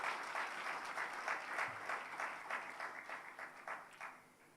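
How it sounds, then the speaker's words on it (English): An audience in a plenary conference room claps for the chair of the board, a fairly distant round of applause that swells and then tapers into scattered claps. "Another round of applause for the chair of the board."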